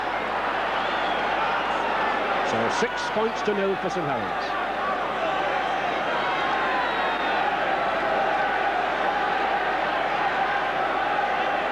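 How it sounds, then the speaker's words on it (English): Huge rugby league crowd of St Helens supporters roaring at a Lancashire Cup final against Wigan, a dense sustained wall of cheering and noise under a commentator's voice. "the St Helens supporters in that huge crowd delighted"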